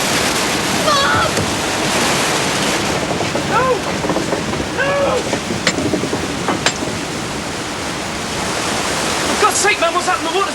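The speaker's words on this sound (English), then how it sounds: "The water's building up in race." Loud, steady rush of floodwater building up in a mill race, a dense broadband roar filling the whole stretch, with raised voices shouting faintly over it.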